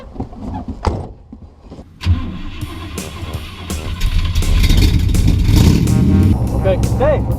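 A Chevrolet Corvette on the road, its engine and road rumble swelling into a loud, steady drone after a quieter start, with people talking over it.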